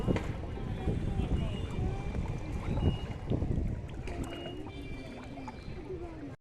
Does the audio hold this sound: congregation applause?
no